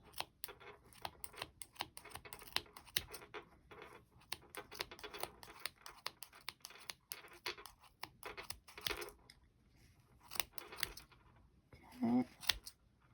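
Scissors snip through yarn loops on a small crochet pom-pom, a rapid, uneven series of quiet, crisp close-up clicks and cuts with brief pauses between runs.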